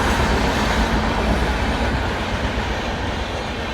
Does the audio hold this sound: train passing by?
yes